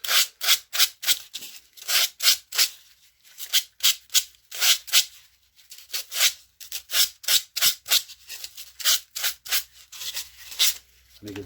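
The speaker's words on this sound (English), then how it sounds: "so we're going to get fine grit sandpaper again, and just give underneath a little rub down." Fine grit sandpaper rubbed by hand over the underside of a small tabletop miniature mushroom piece, a fast run of close, rhythmic scratchy strokes in quick bursts with brief pauses between.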